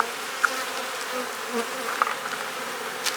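Honey bees hum around a beehive box as they take feed, a dense, steady buzzing swarm close by with a few brief louder passes, and no talking.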